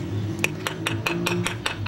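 A hammer taps a bearing into an Italika 170 motorcycle transmission, giving a series of about eight light, evenly spaced metallic clinks close by over a low background hum.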